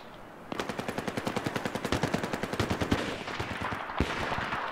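Rapid automatic gunfire in a video game playtest, a fast even stream of loud close shots lasting a few seconds, followed by a sharp report and lingering noise.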